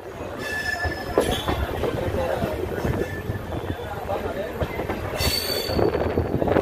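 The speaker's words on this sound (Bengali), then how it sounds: "এই ট্রেন একদম অন টাইমে ছাড়লো 12টা 25 মিনিটে কলকাতার 4 নম্বর প্ল্যাটফর্ম থেকে" A train pulls out of platform 4 at Kolkata station, its wheels squealing and clattering up close with sharp metallic shrieks and a rumbling undertone, while station chatter runs beneath.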